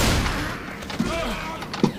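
A shotgun fires in Left 4 Dead 2, two sharp booming shots about a second apart over a rumbling game background, with some voice present.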